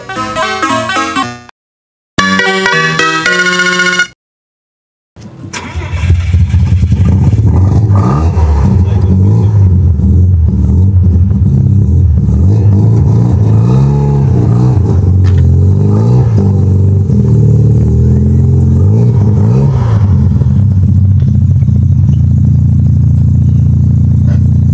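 A 1978 Mazda Savanna RX-7 SA22C with a 12A rotary engine and Weber carburetor, revving loudly and close by with a deep, sustained roar and rising and falling throttle blips, after a few short bursts of music at the start.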